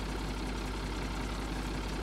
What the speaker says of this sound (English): I keep almost putting the tractor in the silage pit.